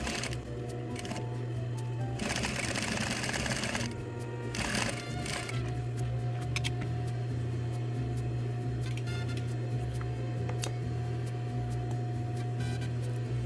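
A tailor's sewing machine stitches a shortened sleeve, making a steady mechanical hum broken by several louder bursts of running stitches, close and without talk.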